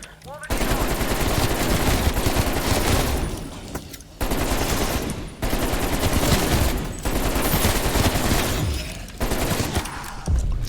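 Sustained automatic gunfire blasts at zombies in a zombies video game, a loud, rapid and continuous stream of shots broken by brief pauses between bursts, with a voice talking underneath.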